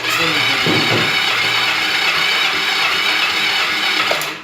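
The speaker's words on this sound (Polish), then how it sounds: "I kręcimy silnikiem aż napompujemy." A Junak M11 125 motorcycle engine, with the throttle held wide open, is cranked over steadily for a compression test, giving a continuous loud whirring drone with even mechanical rhythm that stops near the end.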